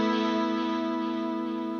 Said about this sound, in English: We can do even almost like a sort of rotary.